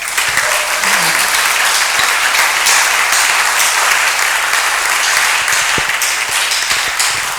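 Loud, sustained applause from a church congregation fills the space, a thick even roar of many hands clapping, with a brief voice and a few sharper claps poking through.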